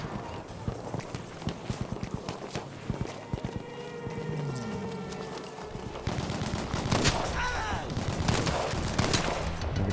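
Rapid gunfire from a weapon in Battlefield 5, bursts of shots cracking out in quick succession over a busy battlefield backdrop, with players talking across the action.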